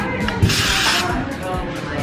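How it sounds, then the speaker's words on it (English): A short burst of Rene Furterer hair product is sprayed onto the scalp at a salon: one soft, close hiss lasting about half a second, with quiet room sound around it. "So I'm just gonna spray a few spots"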